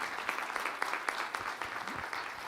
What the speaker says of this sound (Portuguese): Isso, aplauda o Senhor.